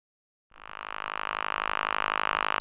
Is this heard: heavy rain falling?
no